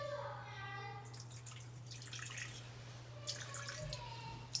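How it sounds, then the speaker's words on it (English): Water trickles from a pour into a jar of sourdough starter sitting on a kitchen scale, a thin splashing stream that starts after a moment and runs faintly over a steady hum, with a few drips near the end. "and I'm going to put in 6 ounces of water."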